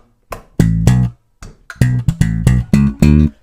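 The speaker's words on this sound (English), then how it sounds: "Then we kind of have this offbeat kind of funky bass line like this" Funky offbeat bass guitar line, short punchy plucked notes in syncopated bursts with brief gaps between them, close and loud with nothing else playing.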